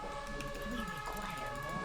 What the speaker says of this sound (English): great sirens by the way for the video